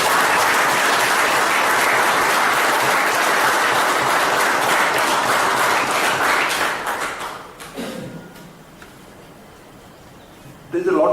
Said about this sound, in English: shall we begin by giving an applause which will be so loud that even those who are not here will hear